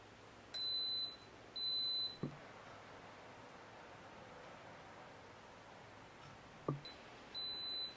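An Instant Pot pressure cooker sounds its notification: three short, clear electronic beeps, two close together near the start and one near the end, over a steady background hiss with a faint click between.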